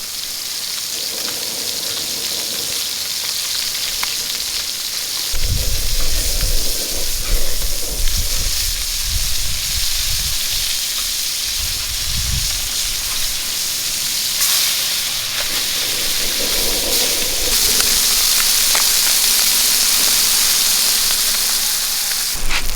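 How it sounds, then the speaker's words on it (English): Tortillas heating on a hot wok over an outdoor fire beside freshly cooked white bass sizzle in a loud, continuous hiss, with occasional low rumbling thumps underneath. "take these tortillas and lay them up on this wok just to heat them up a little bit"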